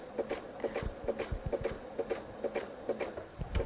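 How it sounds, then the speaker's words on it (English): A sewing machine runs steadily with green thread while sewing a jelly roll purse, giving a quick, even chatter of needle strokes, close and fairly quiet. "And we are sewing. Yes, we are sewing."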